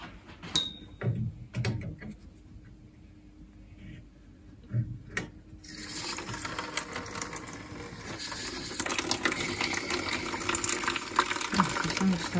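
Water draining out from a Rayburn Royal boiler heat exchanger: sparse taps and drips at first, then a steady rushing, splashing flow starting about halfway, close by with faint voices and clanks.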